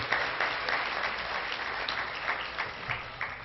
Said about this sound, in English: Let's give them a big round of applause for all the work they've done to make this happen.